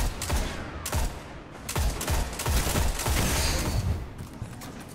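Gunfire is exchanged in a Destiny match: loud, sharp shots in quick bursts, several close reports cracking over a continuous wash of battle noise.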